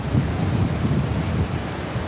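Augrabies Falls roars with a flow of about 850,000 liters per second: a dense, steady, loud rush of falling water, mixed with wind buffeting the microphone and no speech.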